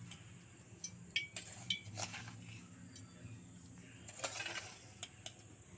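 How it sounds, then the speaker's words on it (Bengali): Flour, sugar and palm pulp are stirred together by hand into tal bora batter, producing faint, irregular squishing and scraping strokes against a bowl, with soft background music underneath. "আমি তালের বড়া ভাজার জন্য ময়দা দিয়ে তালের গাঁট দিয়ে মেখে নেব"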